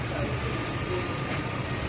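A car engine runs steadily in a garage while its condition is checked for blow-by, a dense, even mechanical roar with no clear breaks for the full two seconds.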